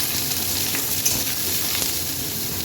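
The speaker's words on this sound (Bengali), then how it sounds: "আর বেগুনটাও একটু ভাজা ভাজা করে নিলাম" Eggplant pieces sizzle steadily in hot mustard oil in a wok, a dense close crackling hiss that holds level throughout with small pops and no voices.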